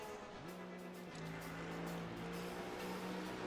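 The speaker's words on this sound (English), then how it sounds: "These cars sound so tough, man." Steady engine drone with rising and holding harmonic tones from GT race cars in the iRacing video game at Monza, continuous and moderately loud with no talking.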